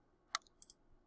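Several crisp keyboard clicks tapped out in a quiet room while a search is typed on a computer, one sharp keystroke followed by a few lighter ones, close and brief.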